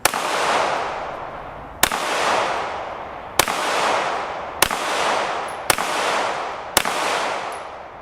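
Six loud shots from a Canik TTI Combat pistol on a range, spaced about one to one and a half seconds apart, each a sharp crack followed by a long rolling echo that fades before the next.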